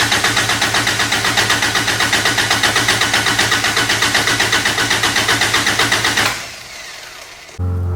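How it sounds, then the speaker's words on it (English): A Toyota fitted with a TDI diesel engine is cranked over on the starter to pump oil, giving a loud, rapid, even chugging that goes on for several seconds without firing, then stops into a quieter hum. "And I'm gonna crank it, I don't know, 30 seconds."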